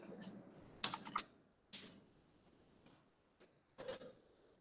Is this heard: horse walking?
no